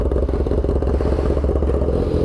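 A motorcycle fitted with an Akrapovič exhaust idles while warming up, a steady close low rumble with busy mechanical clatter and no revving.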